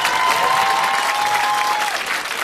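Audience applause at a Paris live radio session with a band, a steady dense clapping sustained throughout, loud and close, with a faint crowd murmur underneath.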